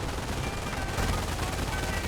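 Machine gun fire in the World War II strategy game Company of Heroes: a dense, continuous rattle of rapid shots sustained at steady loudness, with no pause.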